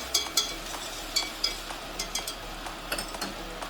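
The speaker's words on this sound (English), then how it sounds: "Stir this up." Garlic and shallots are stirred in a pan, a utensil scraping and tapping in irregular light strokes over a faint, steady sizzle, with no talking.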